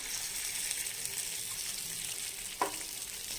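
Water poured into a hot tadka for dal-tandul dhokla sizzles and fizzes as a steady, close frying hiss, with one brief sharper splash near the end.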